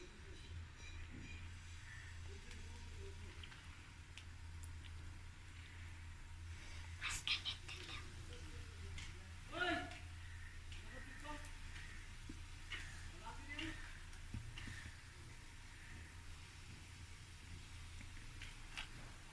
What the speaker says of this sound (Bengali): এবার আমি মিশ্রণটা তেলে এইভাবে গোল গোল করে ছেড়ে দেব।